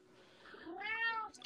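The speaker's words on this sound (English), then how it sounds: "And the cat." A cat gives a single close, drawn-out meow that rises and falls, fairly faint and alone.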